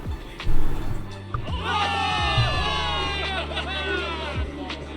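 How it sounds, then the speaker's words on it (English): Soldiers cheer for victory in the video game Zenless Zone Zero, a burst of mixed shouting voices rising after a spoken line and carrying on as overlapping crowd whoops over a low background hum. "Give it up for yourselves, soldiers! Cheer for victory!"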